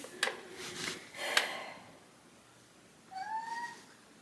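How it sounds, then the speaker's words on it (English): House cat making a few soft, close vocal sounds, two short breathy bursts followed by a brief rising meow, faint in a quiet indoor room. "there's my cat"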